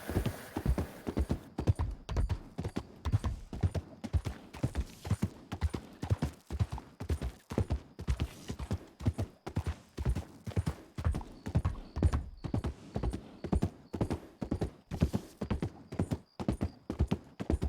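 Horse hooves clip-clop on a road through night fog, a brisk even beat of crisp nearby hoof strikes that continues steadily the whole time, no talk heard.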